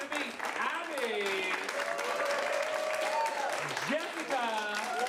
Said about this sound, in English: So let's start that polite round of applause.